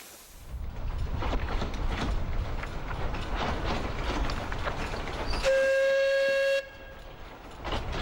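Small wood-fired steam locomotive running on track, a steady rumbling, rattling chug with a loud sustained whistle blast near the end, heard close with no talk.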